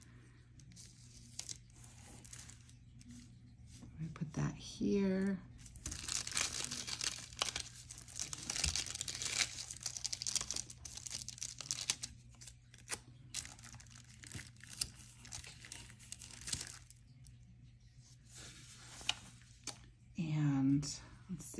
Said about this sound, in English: My wax paper, oh my goodness.